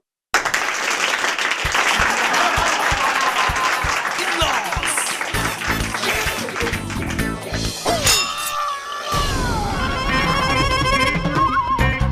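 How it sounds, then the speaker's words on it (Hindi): Applause breaks out at a lively court-style gathering in a Hindi comedy scene, dense clapping at the start that then mixes with clinks, thumps and a busy crowd clatter, fairly loud and continuous. "तालियां।"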